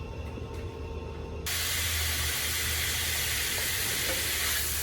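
Meat browning in a hot pan for jambalaya gives a steady hiss and crackle, growing suddenly louder partway through as the sizzle intensifies, close and continuous with no voices.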